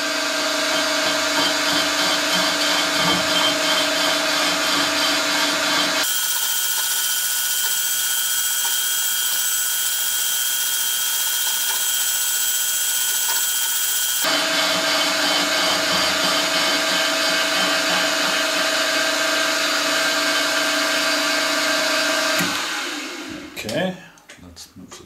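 Milling machine with power feed takes an oiled cut in metal, a steady loud whine with strong humming tones that shifts to a quieter drone midway, resumes, then ends in a few clunks as the table stops.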